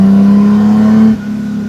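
The Austin Healey 3000 works race car engine pulls hard under acceleration, a loud close steady drone that drops briefly mid-pull and carries on.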